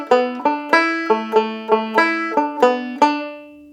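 Banjo picking the first phrase of the B part of Dan Breen's Reel, an Irish tune: a run of bright, close, sharply plucked notes with quick decays at a steady moderate pace, played solo.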